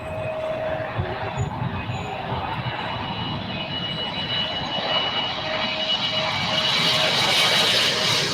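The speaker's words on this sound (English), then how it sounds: "we've got the ANA 777 landing next" An ANA Boeing 777 jet landing at LAX, a steady broadband engine roar that holds loud and close throughout and swells slightly toward the end, with no talk over it.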